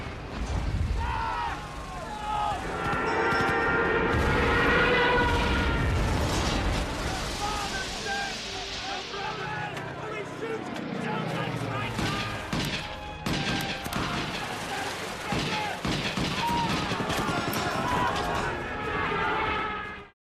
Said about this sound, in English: German aircraft sweep in, dropping bombs and raking the water with gunfire